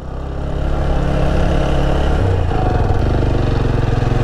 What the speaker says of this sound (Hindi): बाइक तो दो गियर में जा ही नहीं रहा, एक गियर में ही लेके जाना पड़ रहा मुझे